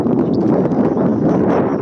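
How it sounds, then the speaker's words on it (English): Strong wind buffets an outdoor microphone on a boat safari on Lake Naivasha, a steady loud rumbling roar with no other clear sounds. "Sorry, it's a bit windy"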